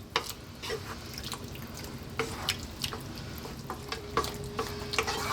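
Vegetables sizzle steadily in a frying pan, with repeated scraping stirs and clinks coming every second or so over the constant close fry and no talking.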